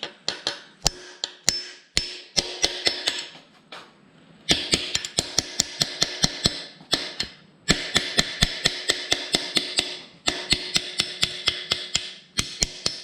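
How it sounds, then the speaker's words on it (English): Sharp metallic hammer blows strike a punch to split an air-cooled VW Type 1 engine case, in rapid rhythmic bursts of many close, loud hits separated by brief pauses. "So I just get a really good bite on it and then start hammering away."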